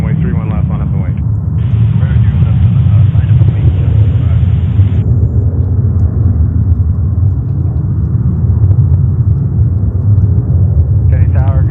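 A Delta jet airliner takes off from runway 31 left at JFK in New York, a loud, continuous low rumbling roar that stays strong throughout, with a radio voice briefly audible at the start and end.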